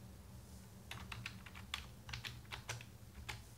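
Quick, uneven keystrokes on a computer keyboard while writing code, clicking in short bursts close to the mic over a low background hum, with no voices.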